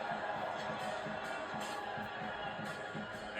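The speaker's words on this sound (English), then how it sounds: "Crowd certainly sounds that way." Crowd noise at a college soccer match between NC State and Washington, a steady roar of cheering and chatter under a commentator's voice.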